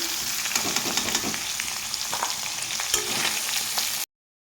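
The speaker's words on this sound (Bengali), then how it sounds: "পনিরটাকে আমি ভেজে নেব এখন" Paneer cubes fry in hot oil in a pan, a continuous close crackling sizzle with small pops and stirring scrapes, steady for about four seconds before cutting to silence.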